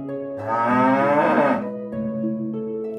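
A cow moos loudly and close by in a long, drawn-out call that swells in the middle and then tails off, followed by a softer second low note, in a musical children's fairy tale setting.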